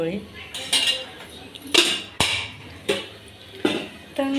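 A metal pan holding a little oil is placed and handled, clanking and scraping in a series of sharp knocks and clatters, close by, with brief pauses between.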